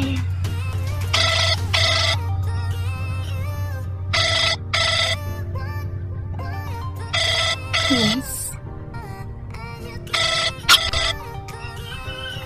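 A phone's ring-back tone repeats in paired bursts with pauses between them over a steady low hum, and people's voices come through faintly in the background.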